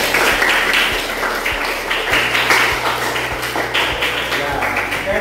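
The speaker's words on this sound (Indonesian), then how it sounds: "Oke, beri tepuk tangan dong." Students applaud in a classroom, a dense patter of hand claps with some louder nearby taps and a low background hum, steady throughout and without talk.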